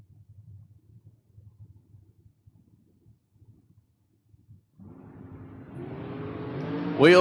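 Drag race between the Wolfpack Race Camaro and an American Chassis dragster: low rumbling idle gives way to a swelling engine roar that climbs loud as the cars launch at the end.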